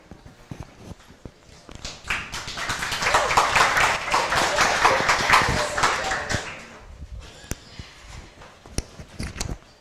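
Audience applause at a research presentation, a dense wash of many hands clapping that swells for several seconds and then fades, with scattered claps and faint chatter around it.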